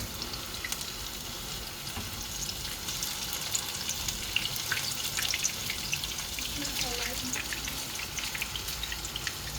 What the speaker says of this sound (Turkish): Kızartıyoruz sırasıyla hepsini.